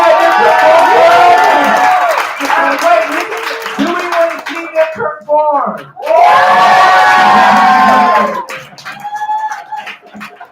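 An audience at a live show whoops, cheers and shouts in loud bursts, rising to a big roar midway, while a host talks over the start and between the waves of noise.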